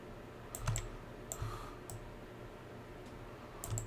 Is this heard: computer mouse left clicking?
yes